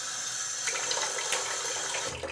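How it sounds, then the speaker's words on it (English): Water splashed up onto the face during a wet shave at a running sink, soft irregular splashes over a steady tap flow, close and moderately loud. "let me splash a little bit of water on my face"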